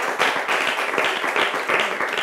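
An audience at a talk show on marital intimacy claps in a dense, steady burst, fairly loud and close, with no talk over it.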